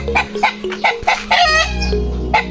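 Chickens clucking close by in a run of short, repeated calls, with a steady low hum underneath.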